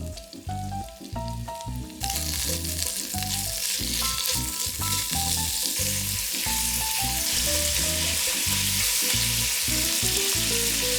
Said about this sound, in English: In goes the pancetta